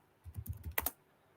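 A short burst of soft keystrokes on a computer keyboard, a quick run of taps ending in a couple of sharper clicks, faint and close, no speech.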